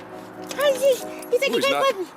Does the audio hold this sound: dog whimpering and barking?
yes